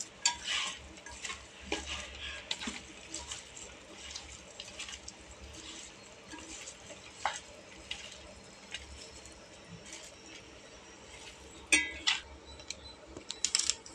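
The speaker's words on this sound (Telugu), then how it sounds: "ఇప్పుడు ఇదంతా మనం బాగా కలిపేసుకోవాలి" A spoon stirs and scrapes through chicken biryani ingredients mixed with fried onions in a pot, giving soft wet squelches and occasional metal clinks, close up with no voices.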